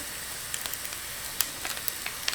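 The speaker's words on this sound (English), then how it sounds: "my butter is melting" Butter melting in a Ninja cooking system pot gives off a soft, steady sizzle and faint hiss, with light crackles and pops scattered through it.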